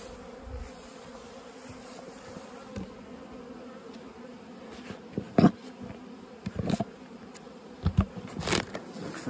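Honey bees buzz steadily around hives in an apiary yard where robbing pressure is high, a continuous close drone with louder bursts as individual bees pass near.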